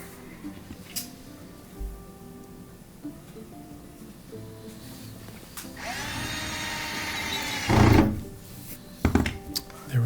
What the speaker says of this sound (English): So I'm going to put in those two Torx 15 screws at the bottom of the front panel.